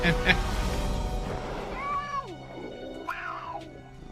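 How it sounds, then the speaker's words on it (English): A cat meows twice in the video game Zenless Zone Zero, short rising and falling cries over background game sound with a voice talking. "A fucking cat again."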